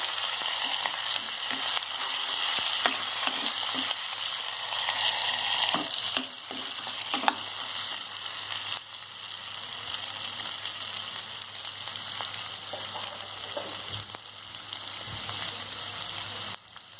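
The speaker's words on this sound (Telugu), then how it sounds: "ఇప్పుడు ఈ పోపు రెడీ అయిపోయిందండి." A tempering of chana dal, peanuts, curry leaves and turmeric fries in oil for mint rice, a dense, even crackling sizzle held close throughout with occasional soft stirring knocks.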